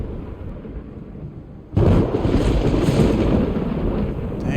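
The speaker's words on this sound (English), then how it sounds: "why is the thunder intensifying?" Thunder in the game Final Fantasy XVI, a low stormy rumble that suddenly swells into a loud, sustained roar of crackling noise and wind, with no speech.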